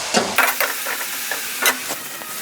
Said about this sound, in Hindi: अदरक लहसुन के पेस्ट को हम 1 मिनट तक फ्राई करते हैं